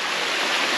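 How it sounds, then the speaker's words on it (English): Rushing water from waterfall cascades on the Appalachian Trail fills the air as a steady, broad, close roar with no talking over it. "Looks like there's a few more waterfalls up there."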